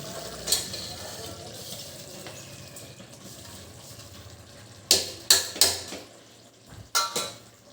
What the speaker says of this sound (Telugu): ఇందులో రైస్ బాగా మిక్స్ చేసుకుందాం.